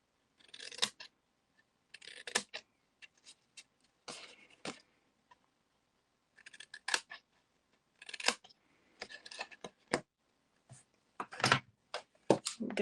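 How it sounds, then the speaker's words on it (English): Scissors snip a small triangle out of craft paper for a mini gift bag, with quick close clusters of sharp cuts and crisp paper rustles separated by brief silent pauses. "we'll just snip out a little triangle from the center piece like that, and the same thing on the other side"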